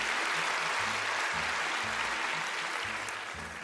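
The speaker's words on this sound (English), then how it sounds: "Round of applause." Steady audience applause in a TV studio, a dense wash of clapping that carries on evenly and fades slightly toward the end.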